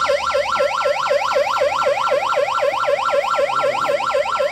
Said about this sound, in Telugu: సో మరి ఇది అంబులెన్స్ సౌండ్ వస్తుంది కాబట్టి పట్టుకున్నారు